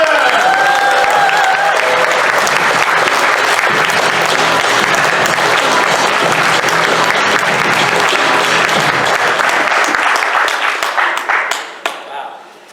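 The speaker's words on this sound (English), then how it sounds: "please give a big round of applause as they come to the stage" A live convention audience at TF Nation claps loudly and steadily to welcome two guests to the stage for a live podcast. The dense applause holds for about eleven seconds before thinning out and dying away.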